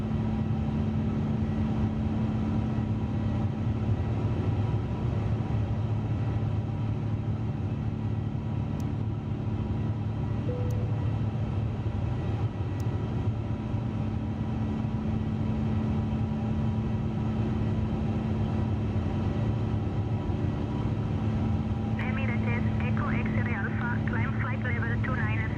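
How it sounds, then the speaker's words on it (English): Steady airliner engine drone from an Emirates jet in Microsoft Flight Simulator 2024, a continuous low rumble throughout with brief faint tones near the end. "Engines sound good."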